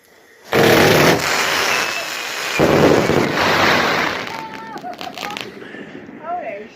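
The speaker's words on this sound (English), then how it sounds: "let's get this thing outside and see just how explosive this Celtic firework Dark Demollisher cake is." A Celtic Dark Demollisher firework cake goes off outdoors in a loud burst of roaring, crackling blasts that fade to scattered pops, with voices and whistling sounds toward the end.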